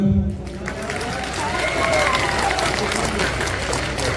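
An audience at a BJP political rally in Irinjalakuda claps in a broad, sustained wash across the hall, a loud crowd sound with voices murmuring underneath.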